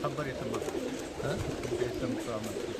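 Pigeons coo steadily at a rooftop loft in Sohar, Muscat, several birds overlapping in a low, continuous murmur with faint background voices.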